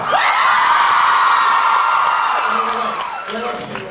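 At a DallasCon convention panel the crowd erupts in loud cheering, whoops and applause that swell and then fade slightly toward the end, with yelling voices woven through the roar.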